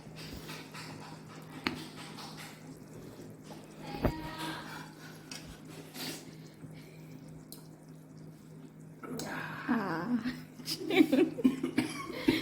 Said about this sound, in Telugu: ఏమో దగ్గు వస్తుంది.